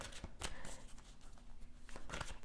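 Oracle cards shuffled by hand in quick, riffling bursts with soft slaps, close up and quiet, with no voices over them.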